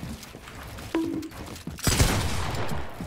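Gunfire in a knockoff battle-royale shooter game imitating Fortnite, a sharp report followed about a second later by a louder burst of shots with a lingering wash of noise.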